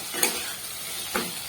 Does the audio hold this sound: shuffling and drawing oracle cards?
no